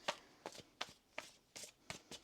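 Tarot cards being shuffled in a series of crisp riffling bursts, about seven quick flicks in a steady rhythm, close and fairly soft with no voice over them.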